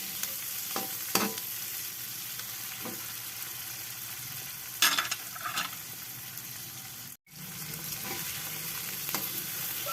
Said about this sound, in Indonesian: Aduk-aduk, hati-hati ini bikin bersin-bersin karena ini menggoreng cabai